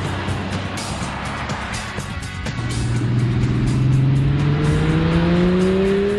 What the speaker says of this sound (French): Le V10 de la Gallardo distille lui des grondements rauques